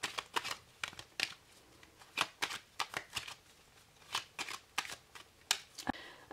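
Tarot cards being shuffled before a card reading, a close series of crisp riffling flicks and soft slaps in irregular bursts.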